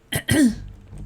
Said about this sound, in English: All I have to do is follow the sound of someone coughing their guts up.